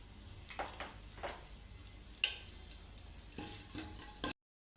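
Cloves, cinnamon stick and bay leaf sizzle in hot oil for Hyderabadi chicken dum biryani, a steady close crackle with a few sharper bursts of spattering, then the sound cuts off near the end.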